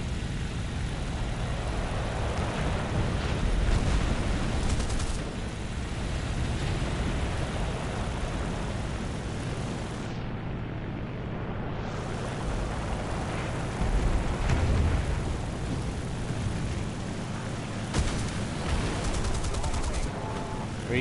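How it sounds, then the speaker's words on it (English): Gunfire and engine drone from the War Thunder combat game, with a torpedo aircraft in play, a continuous dense roar broken by bursts of rapid shooting at a steady, fairly loud level. "Let's let that torpedo go and just take down enemy targets"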